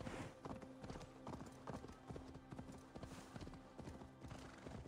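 Horse hooves clip-clop in a quick, steady galloping rhythm in the video game Assassin's Creed Valhalla, close and fairly loud, with no talking over them.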